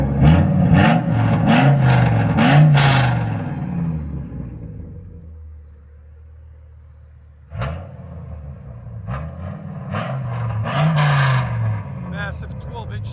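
A Ford Excursion's 6.8L V10 with no catalytic converters, an X pipe and a Carven R-Series exhaust revs hard several times in deep, loud, close bursts, settles into a low idle, then revs again.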